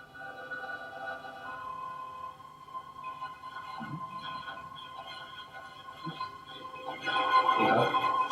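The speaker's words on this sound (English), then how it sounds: "This one's called granular synthesis." Granular synthesis demonstration: many tiny fragments of sound layered into a shimmering, sustained tonal texture with drifting pitches, fairly quiet, swelling louder and denser near the end, with no voice.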